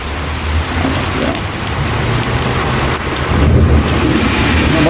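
A severe summer thunderstorm in Westbury pours heavy rain in a loud, continuous roar while low rumbling thunder rolls underneath and swells toward the end.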